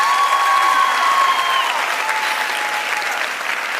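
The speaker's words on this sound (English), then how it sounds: "Can we get another round of applause for the pioneers, Anetta?" Audience applause at a TEDx youth event in Sydney, a loud continuous burst of clapping with a few cheers, fading slightly toward the end.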